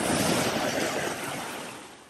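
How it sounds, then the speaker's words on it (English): Ocean waves wash over a floating red waterproof key holder near the shore, a close, loud surge of rushing water that gradually fades as it recedes over about two seconds, with no voices. "Let the waves run over."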